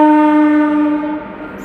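Porbandar–Delhi superfast express hauled by a WAP4 electric locomotive accelerating out of Jaipur Junction, sounding one loud, close horn blast that holds steady and then fades.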